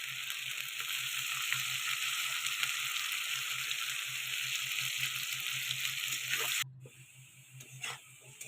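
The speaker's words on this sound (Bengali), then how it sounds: "কড়াইয়ে তেল দিয়ে ভালো করে আলু ভেজে নেব হলুদ আর লবণ দিয়ে" Potatoes with turmeric and salt fry in oil in a hot kadai, a steady close hissing sizzle that runs unbroken and then drops away sharply near the end, leaving faint hiss.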